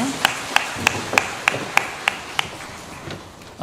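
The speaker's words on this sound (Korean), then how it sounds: "하나님께 영광의 박수 함께 올려드립니다" A church congregation at a Sunday morning service claps in a steady, unified rhythm, about ten distinct claps evenly spaced, moderately faint over a quiet room hum.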